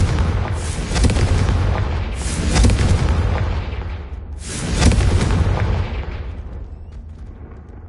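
Confringo fire spell explosions in the Hogwarts Legacy game, three loud booming blasts a couple of seconds apart, each with a crackling burst and a long rumbling decay.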